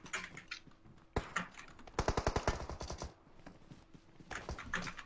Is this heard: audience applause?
no